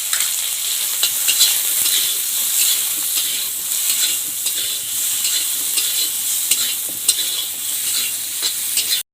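Potatoes frying in hot oil seasoned with salt and turmeric, a loud, steady, dense sizzle with crackling spits that carries on without pause and with no voices over it.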